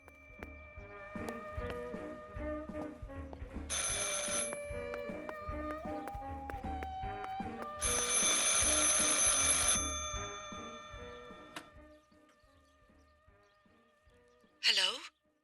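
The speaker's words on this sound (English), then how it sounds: "I should pick up the phone but remain silent." A telephone rings in the horror game Martha Is Dead, with bursts of bright, bell-like ringing repeating over a dim, tonal ambient backdrop, and one final sharp burst near the end.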